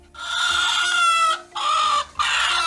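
A hen on a farm in Uganda clucks loudly and close after laying an egg, giving one long, drawn-out squawking call followed by two shorter ones in quick succession.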